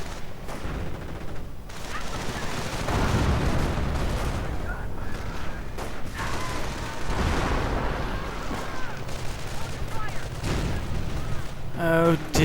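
Gunfire and artillery fire during a battle in the Company of Heroes video game, a steady rumble of distant barrages and shots with a few sharper bursts, running under a commentator's voice.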